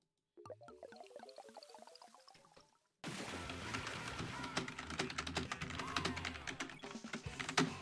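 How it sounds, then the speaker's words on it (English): Rapid clattering keystrokes on a computer keyboard, close and steady for several seconds, set over busy game sound after a brief tonal passage at the start. "I wonder if my keyboard is annoying or not."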